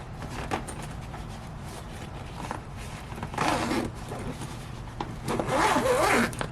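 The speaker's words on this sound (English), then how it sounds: "We'll zip it up." Zipper sounds up close, with two longer zipping pulls among smaller rustles over a low steady background hum, as a portable oven bag is zipped shut in a hotel room.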